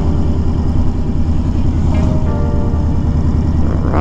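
A 2020 Honda Fury motorcycle ridden hard through a small town gives a steady, loud low engine drone with a rising rev near the end, close and continuous with no voices.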